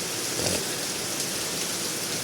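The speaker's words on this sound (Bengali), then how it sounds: "সকাল থেকে কিন্তু এখন পর্যন্ত বৃষ্টি কমেনি টানা বৃষ্টি হচ্ছে" Continuous heavy rain pours over a flooded neighbourhood, a dense, even hiss of downpour on surfaces that holds steady throughout with no voices.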